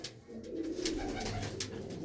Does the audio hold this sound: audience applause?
no